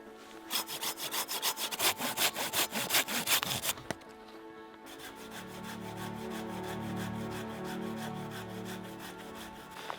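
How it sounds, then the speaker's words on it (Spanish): Hand saw cutting firewood logs into small pieces for a camping stove in snow, rapid rhythmic rasping strokes close up, then a quieter, smoother sawing grind that continues steadily. "hay que cortar la madera a trozos pequeños para que quepa"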